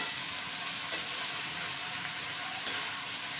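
Chopped ash gourd is stir-fried with spices in a pan, making a soft, steady hiss with a couple of faint scraping taps as it is turned.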